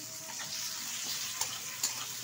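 Tomato pieces sizzle with fried onion in a pan for a mustard-oil fish curry, a soft steady hiss with a couple of faint clinks from stirring.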